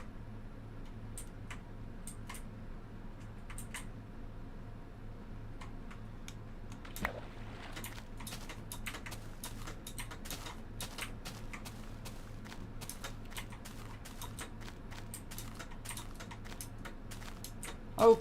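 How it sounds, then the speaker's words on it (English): Keys clatter steadily on a gaming computer keyboard during a Minecraft session, a quiet, irregular stream of clicks and taps over a low steady hum, with no talk. "Epic gamer keyboard sounds."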